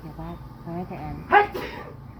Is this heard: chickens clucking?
no